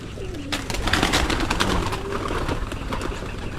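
Young pigeons in a loft cooing steadily and close by, a dense, continuous burble of soft calls with no talk.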